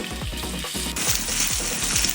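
Tender coconut for payasam sizzles in a pan, with steady frying crackle and rhythmic stirring scrapes that repeat every fraction of a second, the hiss brightening midway.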